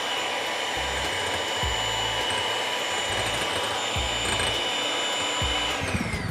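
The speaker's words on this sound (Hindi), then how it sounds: "इसमें डाल देंगे और इसको करेंगे बीटर के साथ बीट।" An electric beater whips egg whites in a bowl for an almond honey cake, giving a loud, steady motor whine throughout with low rumbling pulses as the beaters move.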